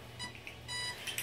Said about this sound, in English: It's making the beep, beep, beep because I don't have my transmitter plugged in.